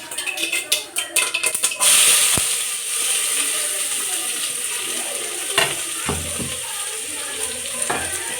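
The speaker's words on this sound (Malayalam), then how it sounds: "കടുക് പൊട്ടിക്കൊണ്ടിരിക്കുന്നത് നമുക്കതിലേക്ക് ഈ അരിഞ്ഞ് വെച്ച വെളുത്തുള്ളി ഇഞ്ചി പച്ച ഇതെല്ലാം കൂടി ഇട്ട് കൊടുക്കാം" Garlic, ginger and green chili sizzle steadily in hot oil with popping mustard seeds after some clattering and stirring, with occasional scrapes of a spoon against the pan.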